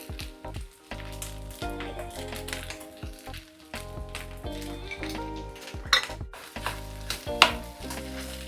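Vegetable fried rice seasoned with garlic powder sizzles in a pan, while a spatula stirs and scrapes in repeated clanking strokes. The metal utensil sounds sharp and close over the steady frying hiss, with brief pauses between strokes.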